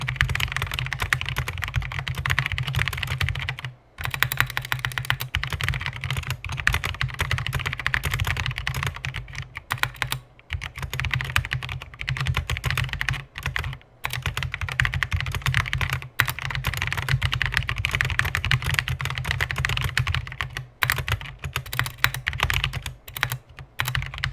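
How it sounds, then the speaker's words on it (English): Fast continuous typing on a Noppoo Lolita mechanical keyboard with Spyder switches, a dense, close, loud clatter of keystrokes with a few brief pauses, with no talking. "actual sound of the keyboard itself"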